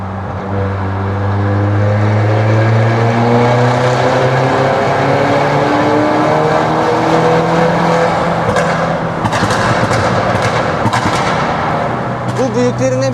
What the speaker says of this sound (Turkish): Bir egzozun sesini de gösterebiliriz istersen